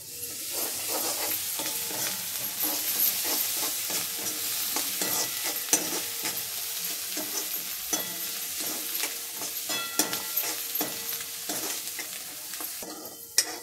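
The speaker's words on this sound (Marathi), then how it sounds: "आता असं तळून घ्यायचं आहे" Ginger-garlic paste with Kashmiri chili powder and garam masala frying in oil for a dry soybean curry, a steady close sizzle broken by frequent scraping stirs and clicks, with no talking.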